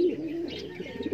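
Large pigeons, including inbred Van Den Broek birds, give a short low coo close by, soft and throaty with a few lighter chirping notes.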